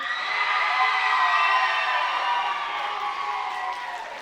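A crowd at a black belt martial arts showcase cheers and claps together, a dense, loud wash of applause with whoops and shouts that holds steady and eases off slightly toward the end.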